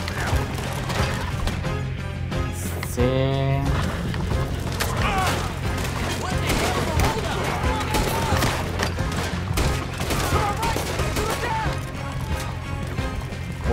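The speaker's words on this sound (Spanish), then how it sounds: "¿Cuántos disparos, en serio?" Dense, rapid gunfire from Red Dead Redemption 2, with many overlapping shots and impacts rattling continuously over a steady low hum, with voices faintly under it.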